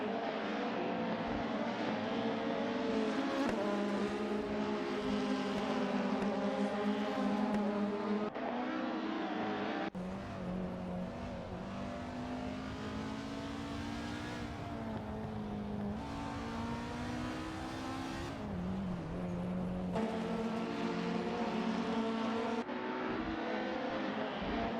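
Race cars lap BTCC Speedway in a racing video game, engines droning and revving continuously with shifting pitch as cars pass and change gear, loud and sustained without any speech.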